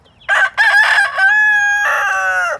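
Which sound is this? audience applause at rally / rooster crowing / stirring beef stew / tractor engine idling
rooster crowing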